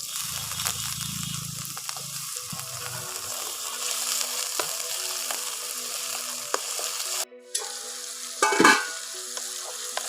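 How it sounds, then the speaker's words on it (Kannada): Small brinjal pieces fry in a little oil in a pan for vangi bath, a soft steady sizzle with occasional stirring scrapes and a brief louder clatter near the end, nearby and without voices. "ಬದನೆಕಾಯಿ ಸ್ವಲ್ಪ ಎಣ್ಣೆಲ್ಲೇ ಫ್ರೈ ಆಗಬೇಕು."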